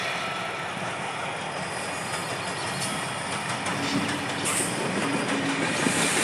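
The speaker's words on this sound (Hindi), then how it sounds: "हमें अंका ट्रेन चला ट्रेन मिलते गुड गुड गुड ट्रेन तो चला कना" A train runs steadily along the rails with a continuous close rumble and faint rhythmic clatter of wheels on track, unbroken for the whole stretch with no voices.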